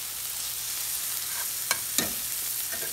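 Onions sauté in a pan, sweating toward translucence with a steady close sizzle and a couple of quick utensil scrapes or taps.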